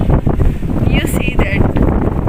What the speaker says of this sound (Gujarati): કેટલી હવા આવી રહી છે